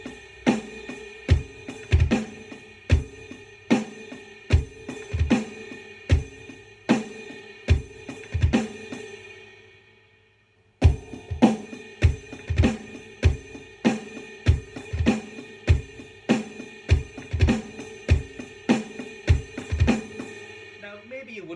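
A drum kit plays an eight-beat groove, with a quick drag grace-note figure before the last snare hit of each bar. Hi-hat, kick and snare strokes are crisp and close, two passes split by a short pause.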